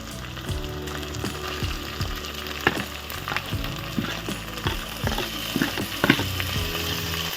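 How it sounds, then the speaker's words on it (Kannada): Tomatoes and onions fry in oil in a pan for egg biryani: a continuous close sizzle with intermittent spoon taps and scraping from stirring, and no speech. "ಟೊಮೊಟೊ ಈರುಳ್ಳಿ ಎಲ್ಲನೂ ಸ್ವಲ್ಪ ಚೆನ್ನಾಗಿ ಫ್ರೈ ಆಗಬೇಕು"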